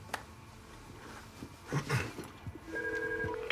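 A telephone rings in a government office, tonal electronic ringing pulses toward the end after some shuffling and background noise, fairly close and moderate in level.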